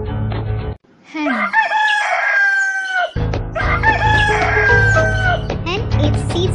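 A hen calls loudly and close by in repeated drawn-out squawks and crowing phrases, broken by a brief gap, with some voice in the background.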